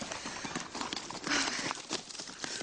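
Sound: horses clip-clopping in a story video game

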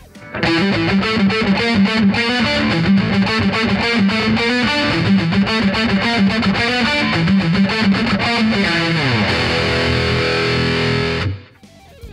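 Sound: electric guitar through JOYO JF-04 high gain distortion pedal

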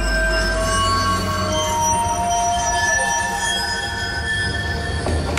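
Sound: video game subway train rolling to stop

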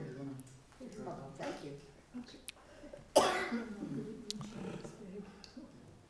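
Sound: cough

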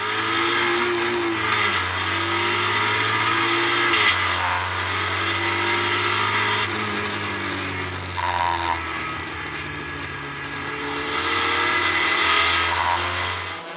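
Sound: Porsche race cars accelerating at race start, Zolder

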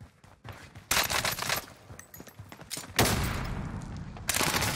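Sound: gunfire in a Call of Duty video game (Rebirth Island)

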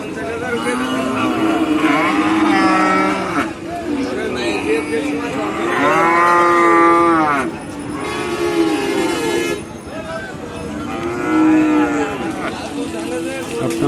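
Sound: cattle mooing at Shahpur cattle market, Khulna

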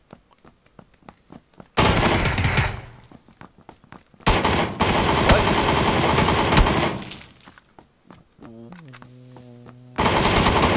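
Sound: Vector gun firing a full clip in PUBG video game

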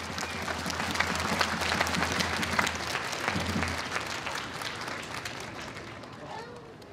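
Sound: stadium crowd applause after hero interview

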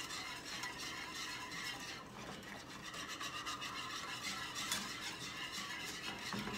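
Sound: whisking lemon meringue pie filling in a pot

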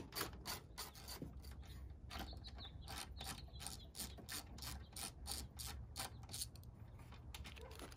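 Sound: ratchet with 10 mm socket removing Jeep fender bolt

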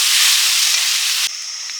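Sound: frying greens with dry chili, onion and panch phoron

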